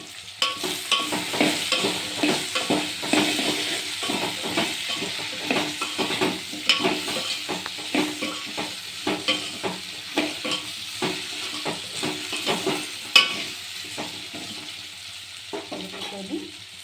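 Potatoes fry in a pan for a Telugu-style aloo curry and are stirred steadily, giving a busy sizzle with repeated scraping and clinking strokes close by that ease off near the end.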